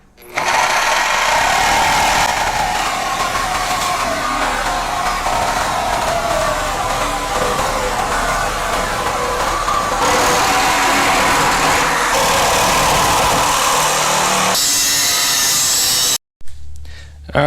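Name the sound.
power tool cutting rusty car inner skirt metal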